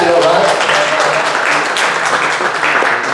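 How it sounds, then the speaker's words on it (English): Audience at a marriage panel event clapping as a couple comes up, a burst of loud applause that gradually thins out, with voices talking over it. "If you guys know Tim and Jenna, you guys can clap for them as they come up"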